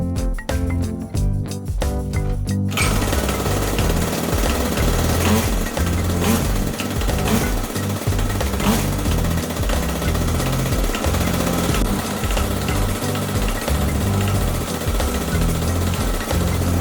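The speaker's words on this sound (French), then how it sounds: "Vous pouvez démarrer votre moteur." A Peugeot 103 SPX moped with a newly fitted MVT Premium 12V ignition starts after a short rhythmic lead-in and then runs loud and buzzing at a steady, close idle until the end, with no talking.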